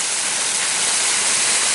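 A pump pipe gushes water into a tilapia pond, producing a constant rushing splash heard nearby and alone, without speech.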